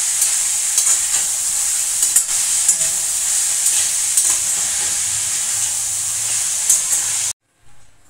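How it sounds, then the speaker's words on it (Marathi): Momo vegetable filling sizzles and hisses steadily in a hot pan while being stirred and sautéed with salt, a bright continuous frying sound with small scraping clicks, cutting off abruptly near the end. "छानसं असं परतून घ्यायचं"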